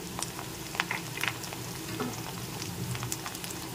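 Chopped onion, tomato and green chilli sizzling in hot oil in a pan, a soft bubbling patter with scattered crackles and pops, fairly quiet and continuous with no speech.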